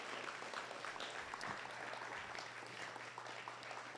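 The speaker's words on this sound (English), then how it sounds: "Please give Autumn a round of applause." Faint, distant applause from a room full of people at a juvenile academy gathering, a steady wash of clapping heard from far off with low background noise.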